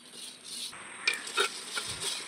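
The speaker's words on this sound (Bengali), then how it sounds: "সুন্দর করে হাত দিয়ে মাখিয়ে নেব" Puffed rice for handi jhal muri being mixed by hand makes soft, close rustling and crunching, with a few louder scrunching bursts in an uneven rhythm.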